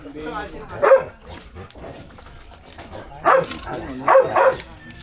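A dog barks up close in a few sharp bursts, a single bark followed by a quick pair, while people talk nearby.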